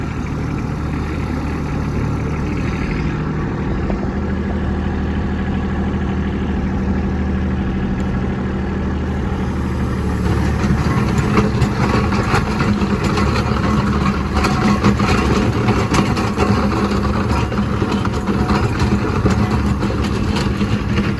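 A Kubota B2601 compact tractor running in snow, its diesel engine droning steadily up close before the revs and roughness rise partway through and stay loud to the end.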